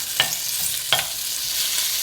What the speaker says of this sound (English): our bacon has been cooking away here for quite a bit. And I want you to hear that. You hear more of a pop in there